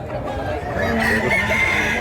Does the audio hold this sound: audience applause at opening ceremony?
no